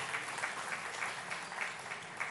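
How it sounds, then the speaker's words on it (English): Steady audience applause at a business summit in India, dense and even with rhythmic clapping throughout, no voices over it. "Can we have a round of applause"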